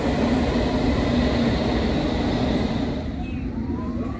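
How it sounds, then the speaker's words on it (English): A train heading into London rumbles along the rails, a loud, steady low roar heard from inside the carriage, easing slightly toward the end. "So we're on our train."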